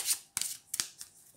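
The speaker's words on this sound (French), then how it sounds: "Ces cartes sont petites, elles sont faciles à mélanger." Small tarot cards are riffled and shuffled in quick crisp bursts, three or four short papery flutters close to the listener with no talking.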